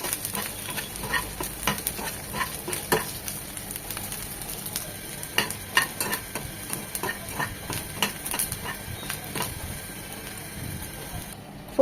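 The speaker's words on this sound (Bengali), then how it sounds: "রসুনটা একটু লাল লাল হবে, শুটকিটা ভাজা ভাজা হবে।" Garlic and dried loitta fish frying in mustard oil in a pan, a steady sizzle with repeated scraping and stirring clicks from a spatula throughout, close and fairly loud, no talking.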